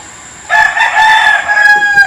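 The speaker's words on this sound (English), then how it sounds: "Roosters, actually." A rooster crows once from a neighbouring yard in Kawit, Cavite, a loud close cock-a-doodle-doo rising suddenly after a moment of quiet and holding for about a second and a half.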